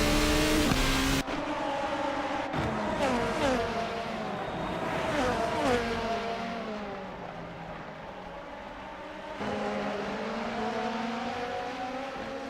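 Race cars in a sim racing event at Okayama circuit, engines droning and revving in rising and falling pitch, several cars audible at once, with a commentator speaking over the racing.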